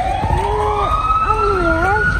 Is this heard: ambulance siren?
yes